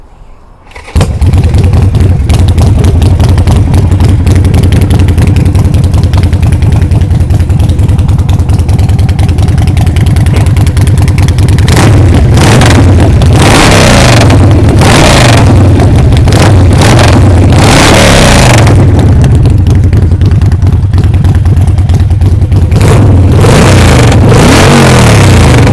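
A 2016 Harley Davidson Nightster 1200 motorcycle starts and idles loud and close, its engine running with a steady lumpy rumble and repeated throttle blips that rise and fall, no talking over it.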